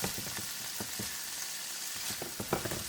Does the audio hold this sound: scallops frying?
yes